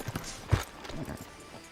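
Horse hooves clip-clop at a steady walking pace in Red Dead Redemption 2, with one heavier hoof strike standing out among softer steps.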